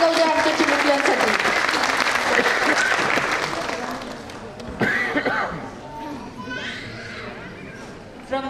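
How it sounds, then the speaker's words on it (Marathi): An audience claps loudly at a pre-primary school annual function, a dense wash of applause that fades after a few seconds into children's chatter and movement, with a voice talking through it. "जोरदार टाळ्या समजावू द्या आमच्या चिमुकल्यांसाठी"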